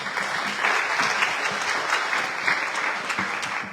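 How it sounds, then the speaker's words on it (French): Crowd at a regional awards ceremony for high-school graduates in Guadeloupe clapping loudly and steadily, a dense wash of applause with no voices over it. "On l'applaudit très fort."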